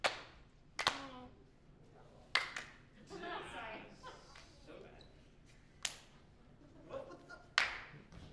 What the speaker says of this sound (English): then she claps it right back to you